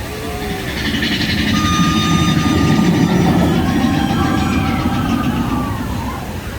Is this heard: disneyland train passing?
yes